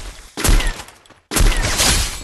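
Two loud bursts of rapid gunfire in the Free Fire video game, fired with a macro button on a PC panel, separated by a brief near-silent gap.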